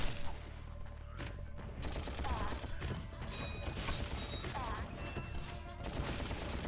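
Rapid gunfire from the Ratchet and Clank video game, a dense stream of bursts, mechanical clicks and electronic whines at moderate loudness throughout, with no clear speech on top.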